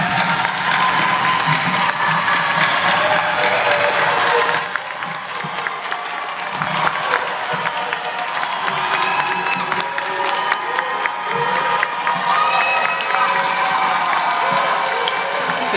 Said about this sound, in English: please join me in a standing ovation and round of applause for all of our graduates